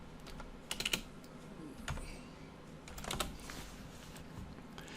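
Quiet typing on a computer keyboard, a few scattered soft key clicks with a small quick cluster, faint and close in a still room.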